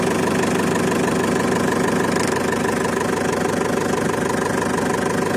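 Mercedes T2 709D Vario van with its big diesel engine idling, a steady loud clattering drone with a faint rattle, close by and unbroken, no voices.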